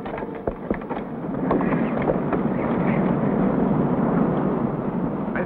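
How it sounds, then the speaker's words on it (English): Wind rises over a remote, lonely wilderness, a rough, blustery rumble that swells and stays steady, with a few thuds and buffets early on, close and fairly loud, no voices. "The wind had begun to rise."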